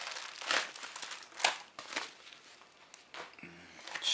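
Plastic packaging from an AliExpress parcel crinkles and rustles in quiet, close bursts while being unwrapped, with several separate crackling handfuls.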